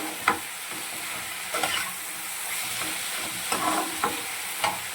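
Food frying in a pan on a gas stove being stirred, a steady close sizzle broken by several sharp spoon scrapes and clinks, with no talking.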